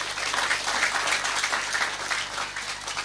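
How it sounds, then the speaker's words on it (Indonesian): Crowd at an Islamic religious gathering clapping, a dense, even burst of many hands heard alone at moderate level for a few seconds. "Tepuk tangan buat beliau"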